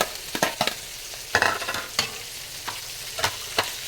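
Chayote is stirred and sautéed in a pan for pancit bihon, with quick scraping strokes and light sizzling in irregular bursts, close and clear, with no talking.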